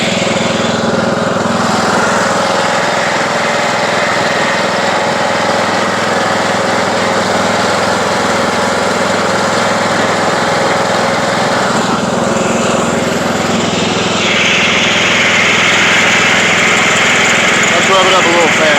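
A Craftsman YT3000 riding lawn mower, still smoking after an oil change, drives along with its engine droning loud and close at a steady pitch, which shifts slightly near the end.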